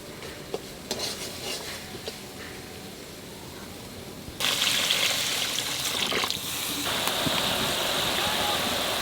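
Water pours into a pan of fried masala for a fish curry, a bright rushing splash that starts abruptly midway and keeps going, after quieter kitchen clinks and faint stirring.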